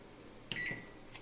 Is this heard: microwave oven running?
yes